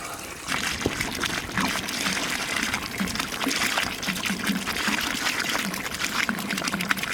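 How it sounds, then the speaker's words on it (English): Water poured into a pot of boiled mutton for Hyderabadi marag stew, a steady gushing, splashing pour running continuously at close range with no talk. "now we add sufficient water."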